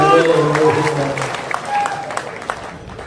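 Audience clapping at a Kannada-language gathering addressed by a Hindu religious leader, a dense patter of many hands over a speaking voice that fades out within about three seconds.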